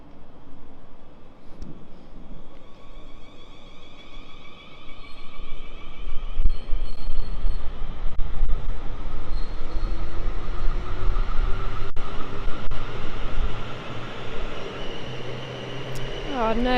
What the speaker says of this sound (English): It's another 12 carriage train.